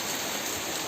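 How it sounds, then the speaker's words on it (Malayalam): Heavy rain pours down, a dense, constant close hiss of drops striking surfaces with no gaps, heard alone without voices. "വാവ് നല്ല മഴ."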